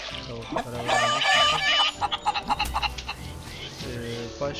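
Chickens in the farming video game FarmVille 2 give a short burst of clucks and squawks amid game effects, fairly close and moderately loud, without talk over them.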